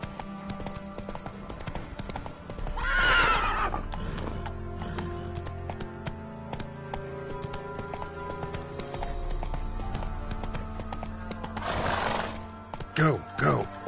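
Hooves of Roach, the horse in The Witcher 3, gallop in a steady rhythmic clip-clop over a game soundtrack, with a brief whinny and some faint voices mixed in.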